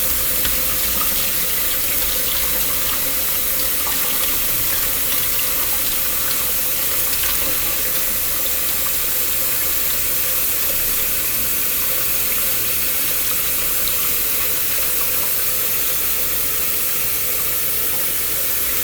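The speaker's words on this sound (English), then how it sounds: "I'm going to turn on hot water. Let the hot water heat up the pipes gently" Hot water running steadily from a tap into a sink to warm the drain pipes, a constant hiss and splash at even volume throughout, with no voices.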